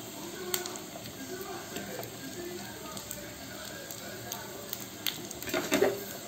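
Curry leaves hit hot oil for tempering, producing a soft, steady sizzle with a brief burst of crackling near the end, heard faintly beneath a speaking voice.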